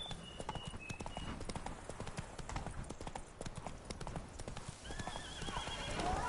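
A horse gallops in The Witcher 3 video game, its hooves clip-clopping in a rapid continuous rhythm, and it lets out a loud neigh and whinny near the end.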